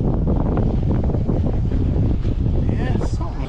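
Strong wind gusts buffet the microphone over open water as a small RC sonar boat is tested, a loud continuous roar with rough low rumble throughout and faint higher whirring near the end.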